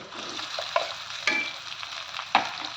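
Potatoes sizzle steadily in a hot pan while a spoon scrapes and stirs now and then, producing a few sharp clinks.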